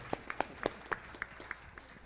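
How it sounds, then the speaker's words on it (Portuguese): A small roundtable audience claps for a speaker's wife, a few scattered, sparse handclaps, faint and brief, with no voices over them. "una salva de palmas para mi linda esposa"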